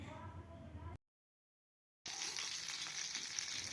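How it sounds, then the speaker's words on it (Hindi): Peshawari chapli beef kababs frying in a pan over a low flame give a steady sizzle that drops out for about a second of silence, then returns brighter and crackling. "ये आपने धीमी आंच पर पकाने पकाना है ताकि ये अंदर से कच्चे ना रह जाएं"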